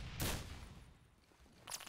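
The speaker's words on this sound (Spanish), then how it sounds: "cuántos tiros" Gunfire in a video game comes as two short bursts, loud and close. The first lands near the start and the second at the end, with quieter rumble between.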